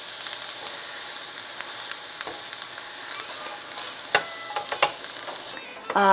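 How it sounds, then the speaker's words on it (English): Cabbage frying in a pan for Russian pirozhki filling, a bright steady sizzle with scattered crackles and the scrape and tap of stirring, heard close and with no speech. "we can right away add the cabbage so that it will start reducing"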